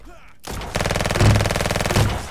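Rapid automatic gunfire from the online shooter game Venge.io rattles out in a fast, even stream of loud shots, swelling partway through and continuing without pause.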